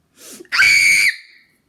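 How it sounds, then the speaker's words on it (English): A single loud, high-pitched scream held for about half a second, preceded by a short breathy gasp and trailing off into a fading whistle-like tail, with no talking over it. "I didn't expect to actually scream."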